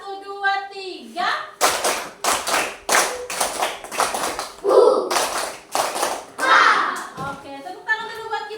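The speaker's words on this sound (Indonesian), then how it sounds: "Tepuk semangat 1, 2, 3." Children in a fourth-grade classroom clap in short rhythmic bursts for a counted spirit clap, groups of sharp claps separated by pauses, close and loud, with a teacher's voice calling between them.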